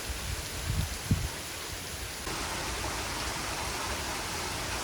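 Heavy April storm rain pours in a steady, dense hiss, with a couple of brief thumps early on and no voices.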